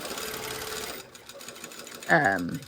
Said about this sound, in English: I'm just going to top stitch at 1/4 inch